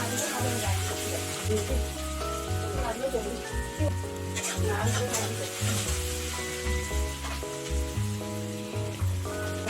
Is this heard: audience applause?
no